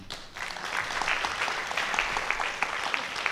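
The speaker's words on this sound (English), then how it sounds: "we were able to thank them with applause" An audience bursts into dense, steady applause after an Urban Bush Women performance, swelling quickly and holding full and loud throughout.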